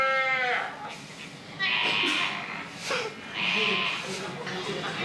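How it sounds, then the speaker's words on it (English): Cape fur seals at a breeding colony on the Cape Cross Seal Reserve coast, giving loud, wavering bleat-like calls in repeated bursts, sheep- or baby-like cries overlapping from several animals nearby. "It's the largest breeding reserve of Cape fur seals on the coast as well."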